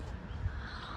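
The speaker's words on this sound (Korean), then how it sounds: "이 새소리 들리시나요?" Crows caw in the Kyoto countryside on a spring walk among falling cherry blossoms, heard as a steady, fairly close outdoor call over a broad background wash, with no one talking.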